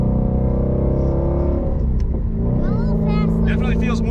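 A 2019 Shelby GT350 Mustang drives along with a steady, loud engine drone and shifts through its Tremec manual gearbox, the revs dropping and climbing again near the middle; a voice talks over the engine throughout.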